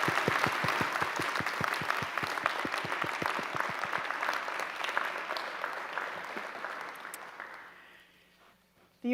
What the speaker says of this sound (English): Graduating students, will you join me in a round of applause for everybody who supported you to get to this moment?